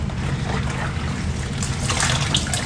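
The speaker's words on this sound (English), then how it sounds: "run them through the water again to get all that shampoo out of them" Hair extensions rinsed through water to wash out shampoo, a steady close splashing and trickling wash that runs without pause.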